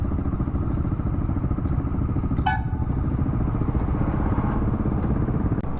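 Motorcycles idle and rumble steadily at a bike community meet-up in Hyderabad, a dense, continuous engine drone near the listener. A brief sharp clatter cuts through midway.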